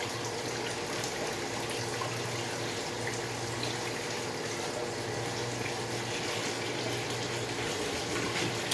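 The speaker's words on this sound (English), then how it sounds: "Boiling water on top." Boiling water is poured over jars of homemade strawberry preserves, a steady, even rushing flow that holds at constant strength the whole time, moderately faint and with no talking.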